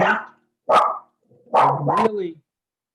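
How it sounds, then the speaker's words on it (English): A dog barking in the background of a Zoom meeting gives a few sharp barks, one single and then a quick double, loud and close in the mic, with silent gaps between. "really dislike, by the way, the background noise. Whoever is the dog, could you please mute?"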